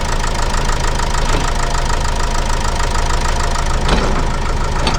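A Vauxhall Vivaro 2.0 diesel van engine with its EGR and cooler deleted, running at a steady idle with a rhythmic diesel knock, loud and close, continuous throughout.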